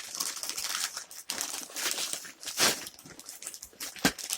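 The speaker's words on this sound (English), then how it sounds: "So I'll cut a hole in the bag." A bag being cut open to make a hole, close crinkly plastic rustling and crumpling with sharp snips and scrapes in irregular bursts over a few seconds, no voices.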